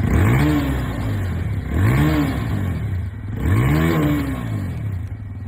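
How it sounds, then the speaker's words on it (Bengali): An old TVS Apache RTR 160 2V motorcycle revs three times in a row, each throttle blip rising and falling over a steady idle, loud and close. "এবার ওল্ড অ্যাপাচি এর এক্সস্ট নোট চেক করি।"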